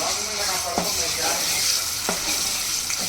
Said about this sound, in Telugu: కడాయి పెట్టి two three table spoon oil వేసుకోవాలండి వేసుకొని తర్వాత అల్లం వెల్లుల్లి పేస్ట్ వేసుకొని